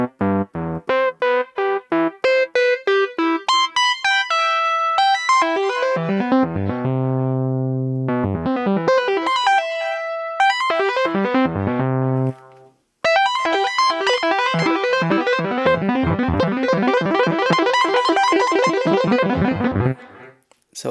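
Bright tones from a Future Retro 512 touch keyboard synthesizer step through a scale with reversed, swelling note shapes, repeated in phrases and ending in a dense, shimmering run.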